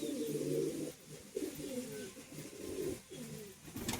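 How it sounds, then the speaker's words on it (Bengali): High-flying pigeons coo in low, rolling phrases, repeating steadily and close by for a few seconds with no speech. "প্রচুর অ্যাক্টিভ পায়রা"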